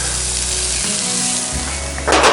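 Diced onions sizzle loudly and continuously in a Dutch oven during breakfast cooking, a close, steady frying hiss that flares brighter at the end as more onions hit the hot pan, with no talking.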